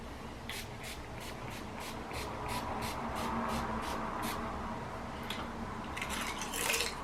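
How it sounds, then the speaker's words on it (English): Face mist spritzed onto a face: a quick run of about a dozen sharp, hissy spray bursts in steady rhythm, then a few denser sprays at the end, close up with no talk. "let me just spritz my face"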